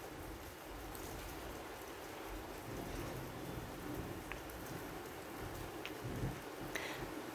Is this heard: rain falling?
yes